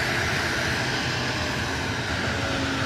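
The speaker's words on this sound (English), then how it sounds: "it's very loud, but Officer Zarkeshan is coming home, and he's in that plane right there" A police officer's arriving airplane, just out of sight beyond a fence, fills the air with a loud, steady engine roar that holds constant throughout, with no talking.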